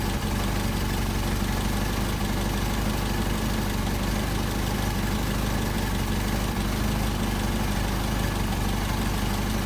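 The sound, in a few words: Solex moped engine idling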